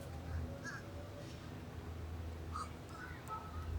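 Crow cawing at Disney's Caribbean Beach Resort, a few short calls rising over a steady outdoor background hum, with a person talking nearby.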